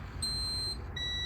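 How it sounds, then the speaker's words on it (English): Truck cab low-air warning buzzer sounding once the key is turned on, a steady electronic tone that holds for about half a second, breaks off, then resumes in a slightly different pitch over a quiet background hum. "you can hear the low air warning light buzzer come on"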